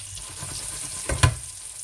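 Lamb rissoles sizzle steadily in oil in a frying pan, a constant bright hiss with a brief louder spatter near the middle and no talking.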